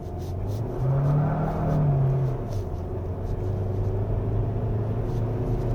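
A 2023 Hyundai Tucson N Line Hybrid 2WD pulls away on a slippery winding road, its engine rising into a swelling drone as the wheels spin, then settling into a steady rumble close by.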